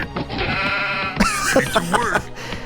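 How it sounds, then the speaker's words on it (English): Synthesized sheep bleats from the 1995 strategy video game WarCraft II: Tides of Darkness as the animal is killed, a loud wavering cry cutting in at mid-clip over game music and effects. "I'm just gonna kill this sheep."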